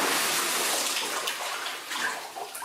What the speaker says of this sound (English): Splash!